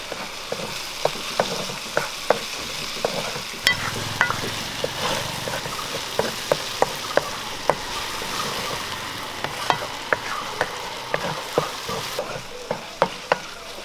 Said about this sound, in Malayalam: ഉപ്പ് ഇട്ട് നമുക്ക് ഇളക്കി കൊടുക്കാം